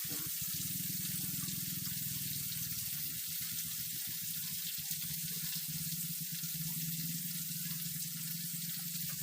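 Steady running tap water splashing into a sink while shrimp are washed, a continuous rushing wash with faint clinks, no talking.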